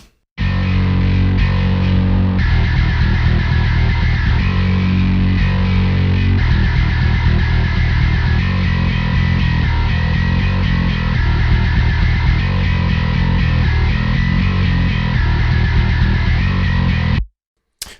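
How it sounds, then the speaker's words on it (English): High-gain distorted bass guitar tone played continuously for about seventeen seconds, thick and loud with heavy fuzz and sustained low notes, alone without talk. "So again, another sick high gain bass tone."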